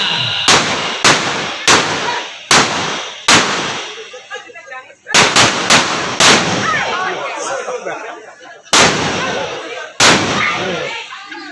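Large firecrackers burst one after another during a wedding escort procession, each loud sharp bang ringing out with a crackling tail, about ten blasts in uneven succession at close range.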